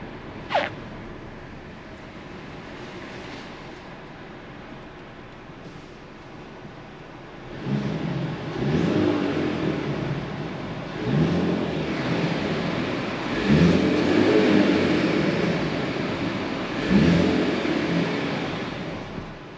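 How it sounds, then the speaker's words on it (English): A 2022 Mercedes-Benz C300 engine idles low, then revs up in several surges from about halfway through, rising and falling without talk. "I'll give it some revs"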